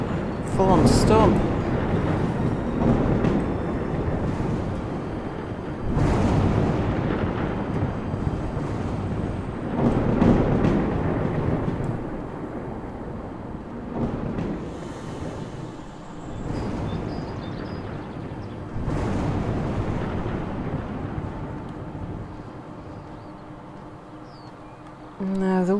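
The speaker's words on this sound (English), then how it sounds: "full-on storm." A full-on thunderstorm rages in the video game Life is Feudal: Forest Village, with heavy rumbling gusts and rolling thunder surging and fading in waves, while someone talks over it at times.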